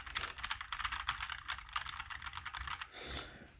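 Rapid, crisp clicking of keys being typed on a keyboard, close up and fairly quiet, ending with a brief soft rustle.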